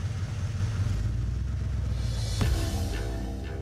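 In the video game Payday 2, a car pulls away after dropping off the player, a low engine rumble that rises briefly as it accelerates, over steady ambient city noise.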